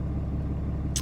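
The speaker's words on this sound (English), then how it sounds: "Got the truck warming up." A truck engine warming up on a frozen southern Oklahoma farm idles with a steady low rumble close by, ending with a short sharp hiss.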